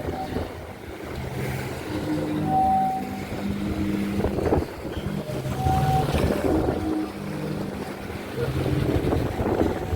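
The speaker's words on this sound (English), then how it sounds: "This is what they call the sea organ" Low, hollow, organ-like tones from the Zadar sea organ in Croatia drone and swell irregularly as waves surge beneath the steps, with wind noise and water wash throughout; no talking.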